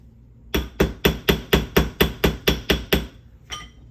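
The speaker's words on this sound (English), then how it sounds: "I will quickly hammer this part" Eleven quick, evenly spaced metallic hammer taps on earring wire ring out in a steady rhythm, followed by a pause and one last tap, close and clear.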